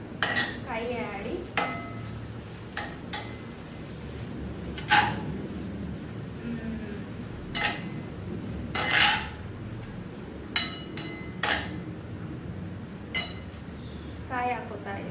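Grated coconut is fried and stirred in a pan with a metal spoon, making repeated scattered clinks and scrapes against the pan over a low background sizzle while a person talks.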